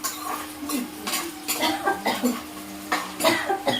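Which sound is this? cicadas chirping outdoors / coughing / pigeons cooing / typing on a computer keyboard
coughing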